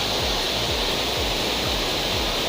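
Water pouring steadily at Daja Daku falls in San Isidro, northern Leyte, a loud continuous broadband rush with a low churning rumble, heard alone without voices.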